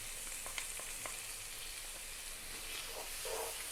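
Tomato paste and chicken sizzle in a pan while being stirred. A steady, faint frying hiss runs throughout, with light scraping clicks from the stirring.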